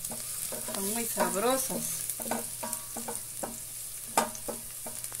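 Onion and herbs sizzle and fry in a pan with a constant bright hiss, stirred occasionally, while someone talks over the cooking.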